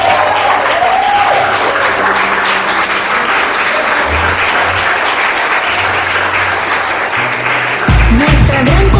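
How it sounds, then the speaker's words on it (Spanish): A church congregation applauds loudly and steadily throughout, a dense wash of clapping with low crowd murmur and a brief musical tone underneath. "Ponte sobre tus pies y aplaude al Señor"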